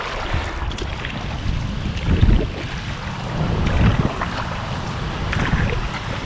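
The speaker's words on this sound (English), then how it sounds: "So this is the weir." Water pouring over a weir on the River Soar, heard as a broad, continuous rushing wash with wind buffeting the microphone, steady and moderately loud with no talking.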